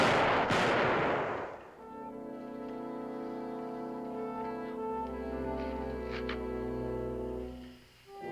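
A volley of gunfire from a firing squad in a frontier-era drama opens with a loud burst of shots, then gives way to a sustained dramatic music score with no talk.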